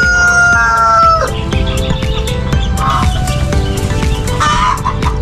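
Hens and a rooster on a farm near duck and chicken eggs, with a brooding hen among them: a loud, close chorus of clucking and crowing calls overlapping for several seconds.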